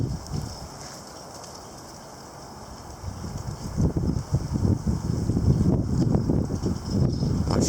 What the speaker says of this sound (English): It seems like the good gusts funnel right through here.